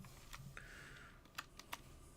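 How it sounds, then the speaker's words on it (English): Brief burst of keystrokes on a computer keyboard, a few sharp clicks near the end, fairly faint against a quiet room. "Stupid keyboard."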